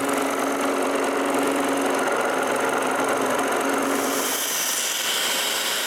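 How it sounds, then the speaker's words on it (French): A scroll saw cuts wooden bowl shapes, giving a steady, loud, buzzing whine with rapid blade chatter that carries on without a break, then eases and changes tone near the end as the cut finishes. "Je finis donc le tout avec le scie à chantourner."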